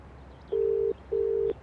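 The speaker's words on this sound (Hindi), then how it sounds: "शशांक को ट्राई करता हूं।" A phone call rings out with two evenly spaced long electronic ringback tones, each about half a second, clear and steady against a quiet background.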